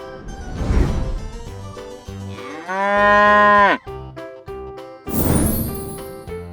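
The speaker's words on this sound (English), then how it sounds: "Cow." A cow moos once in a long, rising-then-falling bellow, loud and close, set among bright plinking background music with soft crashing accents before and after.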